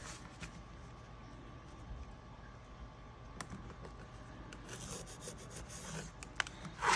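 Pen or marker drawn across fabric to mark a line for a bag, a faint scratchy rubbing stroke with small handling taps and rustles nearby, no voices.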